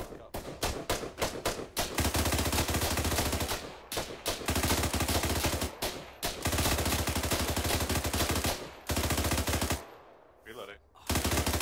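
Sustained bursts of automatic machine gun fire in the military shooter ArmA 3, loud and close, with brief gaps between long rattling strings of shots before the firing drops away near the end.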